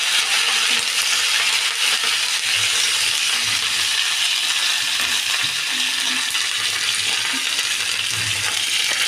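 Mustard seeds and curry leaves spluttering in hot oil while tempering for a chutney, a loud, steady crackle and fizz with scattered pops running throughout, no voices.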